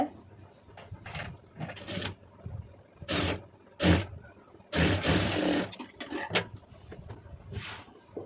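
A sewing machine stitches along a saree border, its motor running in short bursts of whirring with pauses between runs, close and moderately loud.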